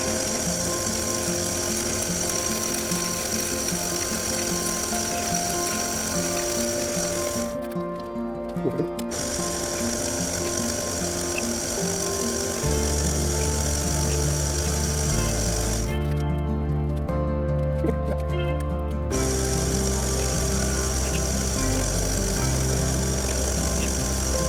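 A small metal lathe machining an engine part for an Austin car whirs and hums loudly and continuously with a steady motor drone and cutting noise, briefly interrupted twice as the machine cuts out, and no speech.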